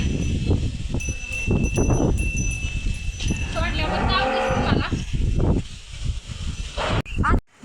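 Cattle on a farm moo in a long, low, drawn-out call amid nearby talk and rustling; the moo is clear and close, rising and falling before fading.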